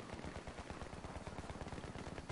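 Rapid automatic gunfire from the video game Battlefield 3, dense continuous bursts of shots filling the whole stretch at steady loudness with no speech.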